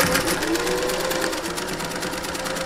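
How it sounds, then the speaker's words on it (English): Sewing machine running at home, a fast steady whirring stitch rhythm close by and continuous, with no talk over it. "I get up and start it at the sewing machine because I love it"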